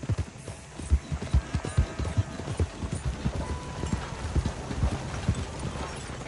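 Horse hooves clip-clop in a fast, rhythmic gallop in the Red Dead Redemption 2 video game, loud and close, with no talk over them.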